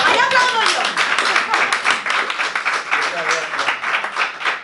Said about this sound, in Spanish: ¡Ahí aplaudo yo!